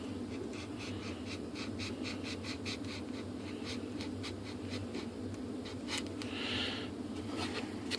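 Blade trimming the bottom edge off a foam or plastic part of a Volantex ASW-28 RC model glider, a steady series of faint scraping strokes in a quiet room.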